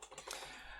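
A few quick, faint clicks from backspace presses on a computer keyboard, a small burst of light taps under a second long, with no talking.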